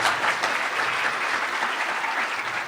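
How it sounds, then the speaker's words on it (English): An audience at a DEF CON security conference talk breaks into a full round of applause, a dense, even wash of many hands clapping at once with no talk over it. "How is that not worth a round of applause?"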